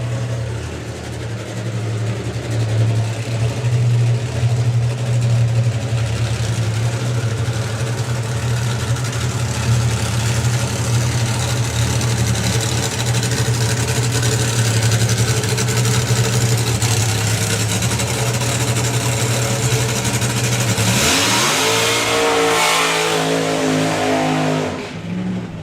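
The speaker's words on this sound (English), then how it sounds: "here comes Simon Hayward with the Hound Dog funny car" The Hound Dog funny car, a drag racer, holds a loud steady engine drone at a drag racing event for about twenty seconds. Near the end it revs up in a rising sweep, then cuts off.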